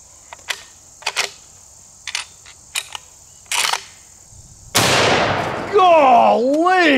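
A single loud shot from a .458 elephant rifle firing a Hornady DGX 500-grain bullet into ballistic gel booms sharply after a series of short clicks and handling knocks, then rings out with a long echoing decay.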